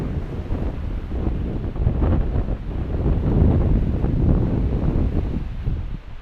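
Strong wind roars and buffets a microphone on a rocky coast near a lighthouse, a steady low rush that swells and eases with nearby surf, no voices.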